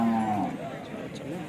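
At a cattle market, a cow gives one short moo that tails off, followed by faint background market noise, with no talking.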